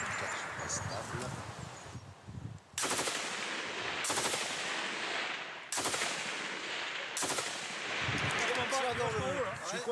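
Bursts of 7.62 mm machine gun fire in an outdoor firing setting, several loud sustained volleys with sharp onsets separated by brief pauses, with people talking in between and over the shots.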